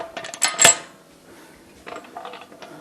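Metal clamps on a resin casting pressure pot lid clinking and clattering as they are lined up, a cluster of sharp close clanks followed by softer scattered taps.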